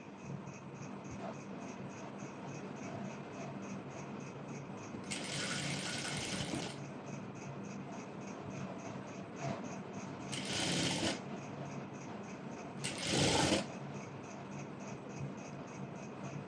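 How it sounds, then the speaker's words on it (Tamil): A sewing machine stitches a half-inch seam on a circular maxi dress in three short bursts, the longest nearly two seconds, over a steady low room hum, with no talking. "அந்த 1/2 inchல நான் ஸ்டிச் கொடுக்க போகிறேன்."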